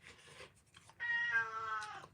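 A single long, insistent meow from a nearby cat, loud and clear, coming after some soft background shuffling.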